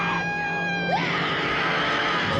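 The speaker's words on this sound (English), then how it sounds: "that girl who keeps screaming" A girl's scream from the shark film Jaws 2, a sustained high shrill cry over steady background film sound, loud and continuous for a couple of seconds with no talk.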